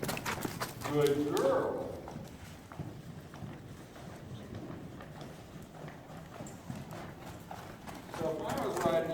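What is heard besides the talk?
horse cantering hoofbeats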